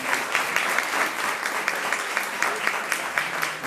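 Loud, steady applause from a crowd, clapping continuously for several seconds with no voices standing out.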